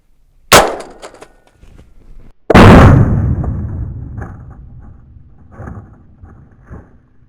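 Two sharp, very loud gunshots ring out from a rifle fitted with a 20-round magazine, the second followed by a long booming echo that slowly fades, with faint rustling after.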